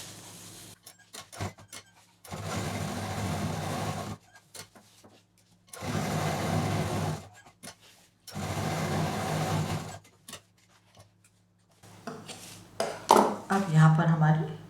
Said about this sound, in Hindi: अब यहाँ पर एक चाप की दूरी से अंदर की तरफ से सिलाई दे देंगे।